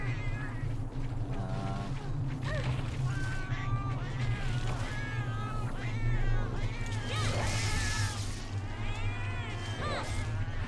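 Several cats meow and caterwaul in the video game Monster Hunter, overlapping high cries over a steady low game hum and rumble, moderately loud with no talk.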